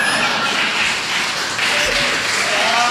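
Audience applause at a Hindi hasya kavi sammelan, a comedy poetry show: a steady, dense wash of clapping from a crowd that holds evenly for the whole three seconds, with no voices over it.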